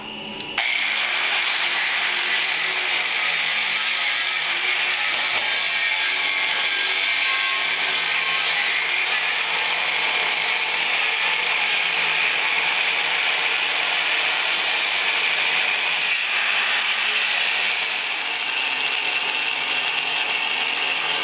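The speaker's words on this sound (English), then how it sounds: "So a little bit of cutting and grinding to start off the day." Power-tool cutting and grinding on the steel frame of a Model T roadster racer being boxed: a loud, continuous, close-up whine and rasp lasting about twenty seconds with only a brief easing near the end, no voices.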